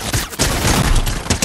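Rapid SMG fire in a video game crackles as a dense, loud burst of shots that runs almost continuously, with a brief break near the start.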